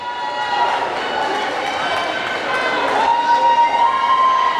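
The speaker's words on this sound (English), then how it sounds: "you can hear the crowd" Crowd noise fills the stands at a junior varsity girls basketball game, a steady wash of cheering and chatter with a brief high whistle-like tone near the end.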